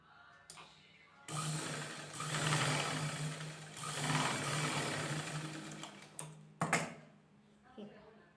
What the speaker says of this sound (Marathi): अशा प्रकारे जर शिलाई मारून जर हा डॉट कंप्लीट केला आपण तर अस्तर आणि कपडा हा वेगळा सुटणार नाही